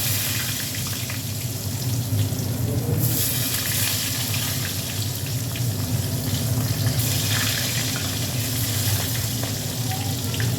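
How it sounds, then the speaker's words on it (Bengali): Brinjal slices fry in a pan with a dense, continuous sizzle and bubbling hiss, close and steady throughout, occasionally swelling brighter, with no voices. "এবার বেগুনগুলো ভেজে নেবো।"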